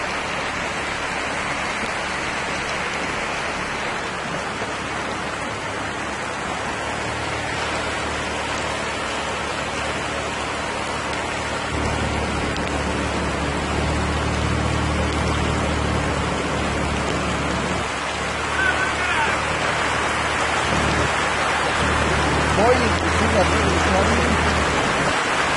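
A heavy nighttime downpour in Pénjamo: steady, dense broadband rain hiss that holds throughout, thickening and growing louder after the midpoint, with water rushing in the street and no talk.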